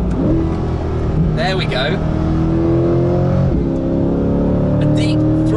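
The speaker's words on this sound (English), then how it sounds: "Deep, throaty, grumbly V8, which is exactly what you want" A Corvette C8's deep, throaty V8 revs and pulls through the gears, a steady loud drone rising in pitch with a quick shift midway, while someone talks briefly over it inside the car.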